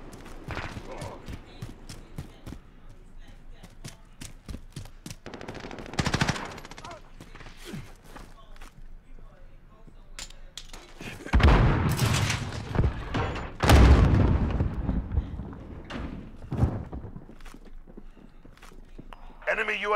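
Gunfire in Call of Duty Modern Warfare online, sharp shots and short bursts scattered through the stretch, with heavier louder blasts midway, footsteps and game sounds between.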